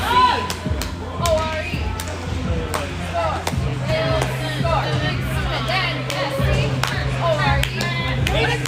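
A hockey arena crowd cheers during a game against Des Moines, with rhythmic clapping, whoops and a steady hubbub of many voices filling the rink.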